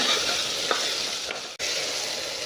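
Tomatoes sautéing in oil in a pan for chicken saalna give off a steady, close sizzle, with a couple of soft stirring scrapes and one brief break in the frying sound.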